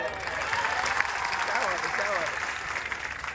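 Sustained applause from a large crowd at a political rally in Kinwat, a dense steady patter of clapping, with a speaker talking over it.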